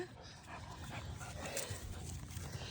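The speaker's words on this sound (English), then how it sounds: "What a crazy dog." A playful mixed-breed puppy and dog roughhousing indoors, with faint scuffling, soft growls and yips under quiet background noise and a voice.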